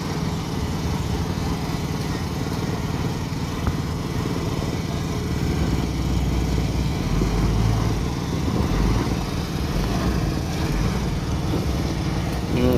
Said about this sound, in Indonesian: Kalau dari suaranya mesinnya ini pakai solar ini dia ini, karena ada asapnya gitu.